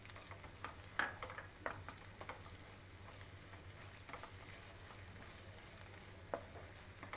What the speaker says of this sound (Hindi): अराउंड 1 मिनट तक आपको इसको सौटे करना होगा जिंजर गार्लिक पेस्ट के साथ